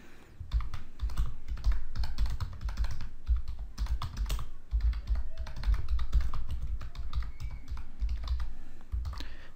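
Typing on a computer keyboard while entering text in the Wolfram Platform, a steady run of close, crisp key clicks in uneven bursts with brief pauses.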